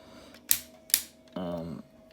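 Ratchet joints on a Transformers Motormaster toy clicking, two sharp, close snaps followed by a short buzzing ratchet burst, heard alone.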